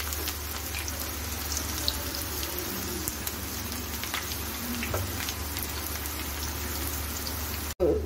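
Potato snack pieces deep-fry in hot oil with a steady, dense crackling sizzle, close and even throughout, ending in a brief dropout and a quick knock.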